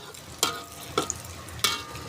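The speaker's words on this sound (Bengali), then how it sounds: "তোমরা দেখতে পাচ্ছ আজকে সকালবেলার আমার ডিম ভাজার রেসিপি" Eggs frying in a pan for breakfast give a quiet, low sizzle, broken by three sharp scraping strokes of stirring spaced about half a second apart.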